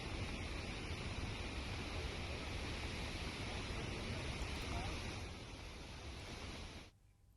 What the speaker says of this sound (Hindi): ये बयाना का कुंड झरना है, जिसकी तस्वीर इस समय आप भरतपुर से देख रहे हैं